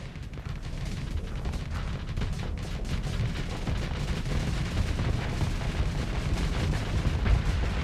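Ship weapons in the space combat game Starsector fire continuously, a dense roar of booming shots and rumbling blasts packed tightly together, loud and sustained with no voices.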